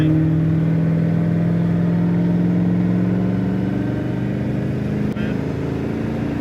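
A car engine on a road course and drag race day, held at a steady drone with a slight rising pitch as more gas is fed, loud and close, with a brief click near the end.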